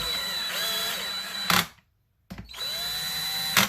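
Power driver with a torque socket running bolts into a front-wheel-drive manual transmission plate: two loud whirring bursts of motor whine, each closing with a sharp impact, separated by a short silence.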